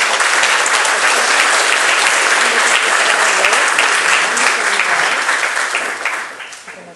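A conference plenary audience breaks into sustained, loud applause to welcome a speaker, a dense crowd clapping that holds steady and then fades out toward the end.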